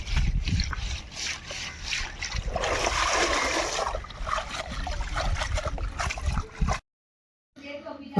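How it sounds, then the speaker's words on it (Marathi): Freshly caught fish are washed in water by fisherwomen, with steady trickling and splashing for several seconds before a brief silence and a short burst of sound. "तीन तीन पाण्यामध्ये धुतात बघा तीन वेळा धुतात पाण्यामध्ये"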